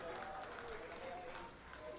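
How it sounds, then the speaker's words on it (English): Kaya FC fans applauding at a football match in Iloilo, a steady wash of crowd clapping and cheering with a commentator talking over it. "Kaya fans applauding that effort from Bata to deny the attack here"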